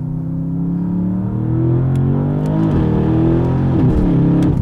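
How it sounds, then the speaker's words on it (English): A 2022 Porsche Panamera GTS Sport Turismo with modified exhaust, tuned to about 800 horsepower, pulls hard under full throttle, its engine note rising loud and close before a sharp upshift and continued acceleration. "I'm gonna have to try a full throttle upshift."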